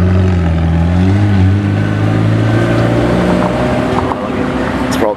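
A car engine rumbles loudly and close at night on the Gumball 2022 rally, holding a steady low drone with shifting pitch, then easing back as it moves on.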